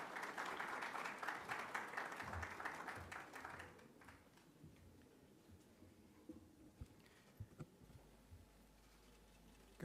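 An audience applauds an introduced World Bank official at the IDA 2022 conference. Steady, dense clapping lasts a few seconds, then fades out, leaving a quiet room with only scattered small ticks and shuffles.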